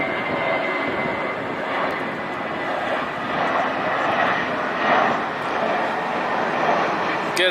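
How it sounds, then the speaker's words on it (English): A passenger jet airliner climbs steeply after takeoff, its engines making a steady loud roar and rumble that stays strong throughout, with a person talking faintly over the noise. "That is a very nice steep takeoff."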